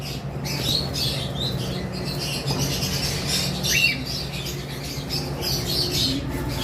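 A mated pair of cockatiels in a cage chirps and squawks in short, scattered bursts at moderate distance, over a steady low hum of background noise.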